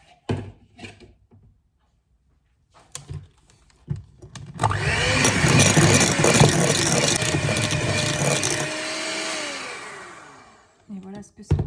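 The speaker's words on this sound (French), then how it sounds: "Maintenant, j'y vais au batteur." Electric mixer beating apple almond cake batter, a steady loud whirring drone with a rising motor pitch that runs several seconds before winding down, preceded by clattering handling noises and brief talk.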